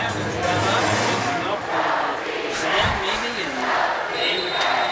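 Crowd noise fills the gym at a girls' high school semi-state basketball game: a continuous murmur and cheering in the stands, with a voice talking over it.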